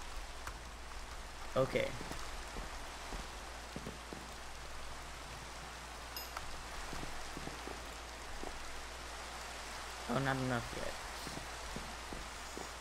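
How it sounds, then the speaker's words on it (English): Steady rain in the modded Minecraft SkyFactory world, a soft continuous patter throughout, with a player speaking briefly over it twice. "I'm just curious, because it's still raining"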